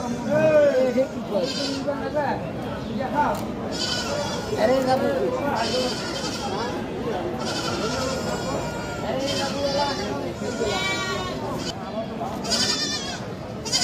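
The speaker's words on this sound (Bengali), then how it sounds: "এগুলো কি বাড়ির ছাগল?" Desi goats bleat repeatedly, some near and some farther off, at a busy open-air goat market in North Bengal. Steady conversation and crowd chatter run under the calls throughout.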